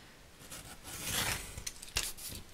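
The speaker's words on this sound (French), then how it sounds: "on va couper déjà ça avant" Scissors snip through paper for a Christmas scrapbook album page, with a few close, crisp cuts and a rustling slide of the blades, heard alone without talking.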